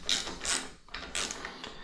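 A Fox 38 suspension fork stanchion being loosened with a tool, giving close, rhythmic metallic ratcheting and grinding mechanism sounds in quick repeated bursts, with no talking.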